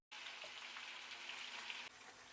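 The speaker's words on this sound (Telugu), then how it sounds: "పసుపు ఉప్పుతో మ్యారినేట్ చేసుకున్న చికెన్ని ఆయిల్లో ఫ్రై చేసుకుందాం." Turmeric-and-salt marinated chicken fries in oil over a medium flame, a steady, fairly quiet hiss that starts abruptly and runs on evenly, dipping slightly near the end, with no talk.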